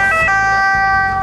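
An ambulance siren sounds during a simulated patient transport to the hospital in Agrigento. It is a loud, close, sustained wail, with the rumble of the moving vehicle beneath it.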